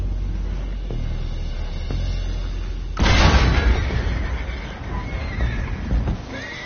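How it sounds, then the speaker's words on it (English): Horses neigh and whinny in the video game Red Dead Redemption 2, heard after a sudden loud burst midway, with rumbling commotion continuing beneath. "The horses are confused."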